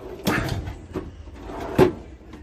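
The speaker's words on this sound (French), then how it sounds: "Ici, tiroir." A drawer in a motorhome kitchen slides open and shut with a few short, close knocks and scrapes spread over a couple of seconds.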